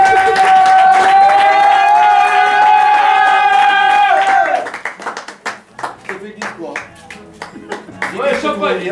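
At a birthday party, a long, sustained cheer rings out from the guests, then gives way to scattered, uneven hand claps and a few shouts that fade and pick up again.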